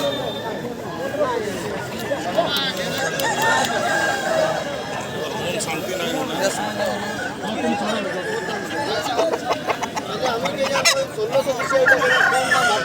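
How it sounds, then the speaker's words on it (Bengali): Roosters and hens at an open-air chicken market in Balarampur, Purulia, crowing and clucking continuously amid a busy crowd, with steady chatter and talk throughout. "এই দা বন্ধুরা কত সুন্দর মুরগ"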